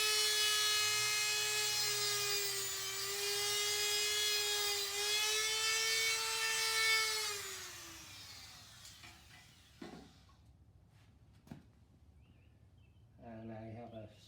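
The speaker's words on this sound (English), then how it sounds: "my Dremel" Dremel rotary tool cutting through a bike handlebar, a high steady whine with strong harmonics lasting about eight seconds, its pitch wavering under load and then dropping as it stops, followed by scattered clicks and brief handling sounds.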